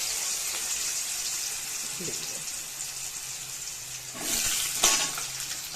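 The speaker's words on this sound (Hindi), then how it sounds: "अब इसको थोड़ा थोड़ा करके 2-3 बैच में हम फ्राई कर लेंगे।" Washed pieces of suran, elephant foot yam, fry in hot oil in batches, a steady broad sizzle throughout that swells louder near the end as more pieces hit the pan, fairly close, with a few light clinks.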